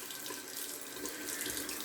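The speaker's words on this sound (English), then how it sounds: "So what we're going to do is run some warm water here." Warm water running from a tap into a bathroom sink while shaving, a steady close hiss of flowing water with no pauses and no talking.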